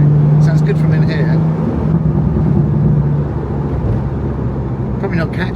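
Engine of a Morgan Plus Six sports car heard from inside the cabin, a loud steady low drone running throughout with some brief higher noise on top.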